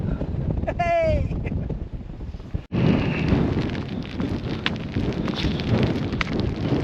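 Strong gusting wind buffets the microphone on the summit of Pen y Fan in the Brecon Beacons, a loud continuous roar with a sharp break partway through, while someone speaks over it.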